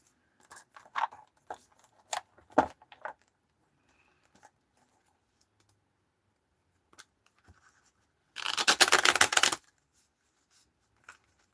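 A tarot card deck being shuffled, with scattered soft taps and riffles early on, then a dense burst of rapid card flicking lasting about a second, close and otherwise quiet.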